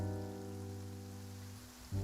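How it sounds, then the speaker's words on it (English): Rain falls steadily in Genshin Impact as a soft, even wash over a low sustained background tone, ending with a brief louder shift; no voices are heard. "It's raining."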